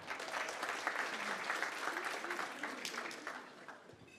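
A university launch ceremony crowd claps for the head of the alumni, steady, fairly faint applause that carries on throughout and tapers slightly at the end.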